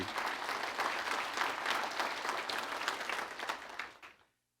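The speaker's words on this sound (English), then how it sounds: "Give them a round of applause, please." Sustained applause for police and dispatch staff at a city's annual state-of-the-city address, a full room clapping steadily and densely for several seconds before cutting off abruptly.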